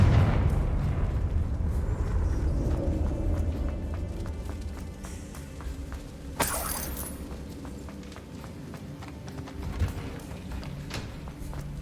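A Confringo blasting spell from the Hogwarts Legacy video game bursts once partway through with a sharp, bright explosion, set among faint clattering and low rumbling game sounds.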